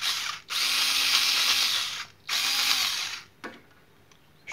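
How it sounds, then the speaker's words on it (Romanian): A cordless battery screwdriver whirs in three bursts, two long steady runs of about a second and a half each followed by a short blip, with quiet pauses between and no talk. "asta e șurubelniță cu acumulatori."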